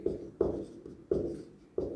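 Chalk or pen strokes on a board during a Class 12 mathematics lecture on continuity and differentiability, four scratchy bursts in an uneven rhythm, close and moderately loud, with no voices.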